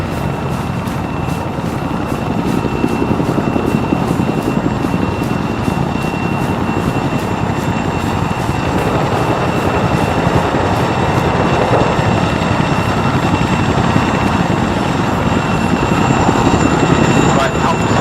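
A helicopter runs loud and close throughout, its rotor chop a continuous pulsing roar with a steady turbine whine on top, at a search and rescue operation.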